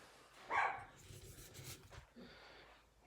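A dog indoors gives a single short, faint bark, followed by soft panting and shuffling, all quiet and fairly distant.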